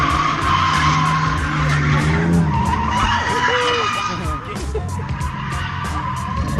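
Drift car tires screech in long, loud squeals at a drift event in Logatec, Slovenia, with engines roaring underneath and crowd chatter mixed in throughout.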